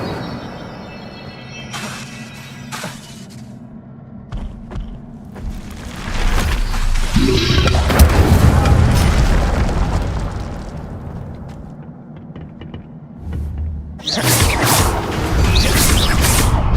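In the Hogwarts Legacy video game, the Incendio fire spell erupts in loud booming fiery blasts and crackling bursts, a heavy explosion swelling mid-way and another sharp burst near the end, over a constant game-ambience rumble.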